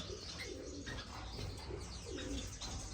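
Lovebirds and Gouldian finches fill an indoor bird room with a steady, overlapping chatter of chirps and calls that carries on throughout.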